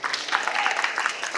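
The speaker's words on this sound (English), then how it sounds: "Round of applause" A fan convention panel crowd breaks into brief applause, a short burst of dense clapping heard fairly close, with no talk over it.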